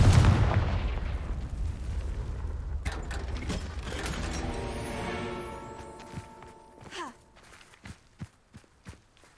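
Confringo fire spell cast in the Hogwarts Legacy video game: a loud booming blast opens, then fades into rumbling and clanking mechanical game effects with sharp impacts toward the end.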